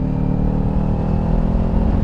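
A motorcycle engine drones steadily while cruising an open stretch of highway, a loud, continuous low rumble with slight revving fluctuation and no talk.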